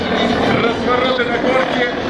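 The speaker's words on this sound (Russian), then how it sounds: "есть вот соло пилотаж на Ми-28" Mi-28 attack helicopter performing solo aerobatics at the MAKS 2017 air show, its rotor and engine noise a steady, loud broadband roar throughout, with crowd or commentary voices underneath.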